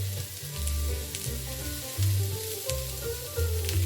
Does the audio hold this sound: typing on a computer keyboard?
no